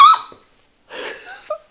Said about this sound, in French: C'est le chat qui s'est mis à éternuer, elle m'a fait peur.